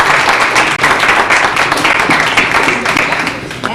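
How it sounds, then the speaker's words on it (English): Steady, dense applause from a crowd at a Brownies troop bridging ceremony, filling the whole stretch at a constant level with no pauses. "I think they deserve a big round of applause"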